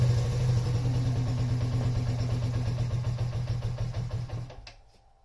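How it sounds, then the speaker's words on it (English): A Yamaha Raptor ATV engine idles low and rough while warming up, a steady close thumping pulse with a knocking rhythm that gradually weakens and stumbles before cutting out at the end. "so she's idling a little too low"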